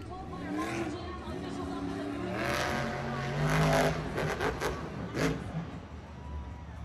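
Monster trucks roar through a race at a Monster Jam stadium event in Tampa, engines revving and rising in a continuous loud drone with crowd noise and commentary voices underneath.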